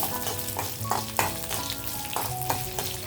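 Garlic cloves fry in hot oil with a steady close sizzle, broken by several short stir scrapes and clinks in an irregular rhythm.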